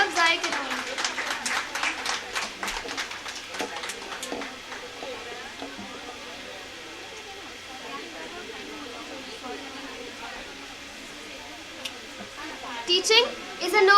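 Audience applause at a women's day felicitation and prize distribution ceremony, a burst of clapping in a hall that fades under murmured voices, then returns briefly at the end.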